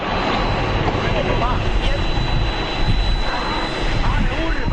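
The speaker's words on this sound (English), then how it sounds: "Flight 16 touched down at more than 140 miles an hour." Passenger jet touching down on a runway at over 140 miles an hour without its landing gear: a steady loud roar and rushing noise with a thin whine above it, continuous throughout, with speech mixed in.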